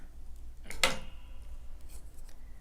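Scissors snipping through crochet yarn, a single quick close cut that is short and crisp against a quiet background.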